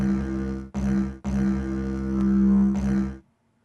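The Pure Water Desire goat horn from Minecraft plays as a low, buzzing, sustained horn tone. It is split into several swelling blasts over about three seconds, then ends abruptly.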